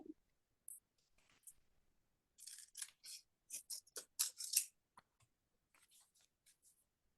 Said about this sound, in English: I know I'm spending time with scissors cutting